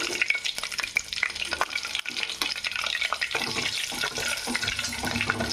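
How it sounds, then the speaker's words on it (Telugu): Onions, tomatoes and green chillies fry in a pot for a chicken biryani and curry while a ladle stirs them, making a loud, close sizzle broken by busy scraping and clattering strokes, with no talking. "బాగా గరిట పెట్టి తిప్పుకుందాం"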